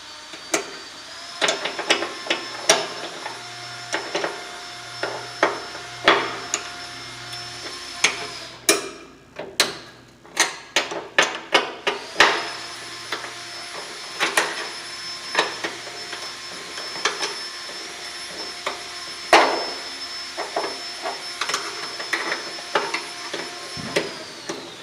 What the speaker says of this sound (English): tighten it back up. That's the trouble sometimes with these ratchet wrenches.